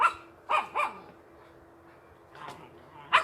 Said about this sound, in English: My puppies are barking.